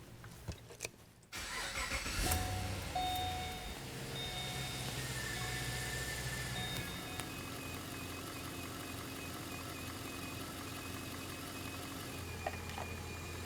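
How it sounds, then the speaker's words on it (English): A car engine cranks and catches during a cooling system flush, then settles into a steady, even idle that runs on alone, heard close up. "we'll start the engine."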